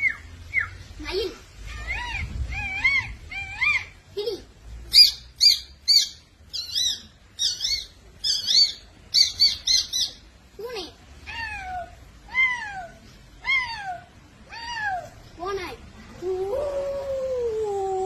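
A schoolboy imitates a peacock with his voice, producing a long series of sharp, high, nasal calls and rapid trills, repeated rhythmically and loud, close up.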